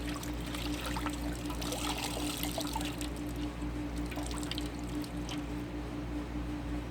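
A soapy cleansing cloth is dipped into water to rinse and then wrung out, giving soft trickling, dripping and pouring water sounds over a steady low background hum.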